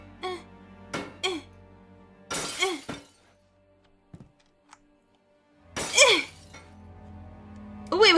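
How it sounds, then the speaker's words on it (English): Glass panes smashed with a golden statue in the video game Emma's Story, with two loud shattering crashes a few seconds apart among short game thumps and clicks, over quiet background music. "there's some glass that I'm gonna break with this golden statue"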